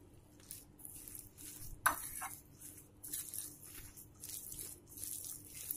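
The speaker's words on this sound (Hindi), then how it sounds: "इस तरीके से आप गुड़ इसमें मिक्स कर दीजिए" Jaggery being stirred into grated raw mango for instant keri chhunda, a series of soft scraping, clinking strokes of a spoon against a bowl, close up, with one sharper knock partway through and no talking.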